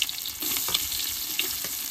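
Onion fries in a pan for chicken biryani, giving a steady close sizzle with a few sharper pops and faint stirring scrapes, and no one speaking.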